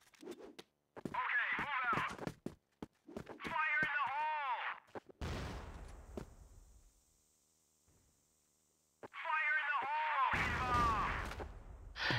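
A grenade detonates in the video game CrossFire with a loud heavy boom that rings out and fades over a few seconds, set among bursts of fast chattering gunfire and crackly radio-like sounds.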